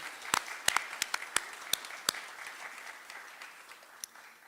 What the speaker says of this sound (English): So another round of applause for Stuart Wilson.